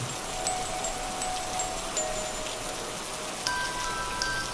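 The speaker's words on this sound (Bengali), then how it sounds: "বৃষ্টিটাও একটু জোরে এলো আবার টিপটিপ থেকে টপটপ শুরু করলো" Steady cartoon rain hisses down continuously, a dense wash of drops with a few faint tinkling sounds, fairly soft and even throughout.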